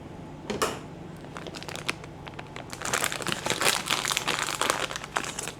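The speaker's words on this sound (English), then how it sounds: "So we're going to grab our scissors and open up our carbonation drops." Crinkling plastic rustles continuously as a packet of carbonation drops for a Coopers home-brew beer kit is handled and cut open with scissors, growing denser and busier toward the end.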